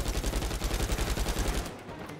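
Rapid automatic gunfire from pirates in the video game Uncharted 4, a dense, steady rattle of shots for under two seconds before cutting off.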